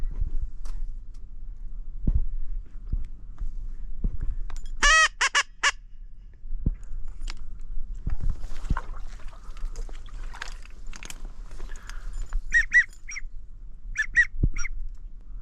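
Wild ducks, including widgeon, call in scattered bursts during a public-land duck hunt, with a cluster of loud honking calls midway and more near the end over steady outdoor background noise.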